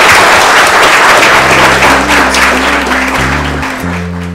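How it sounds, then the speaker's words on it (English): Steady applause from an audience at a science cafe talk, a dense wash of clapping that holds throughout and slowly fades, with a low tonal hum underneath. "And let's give our speaker, Hannah Broadley, a round of applause."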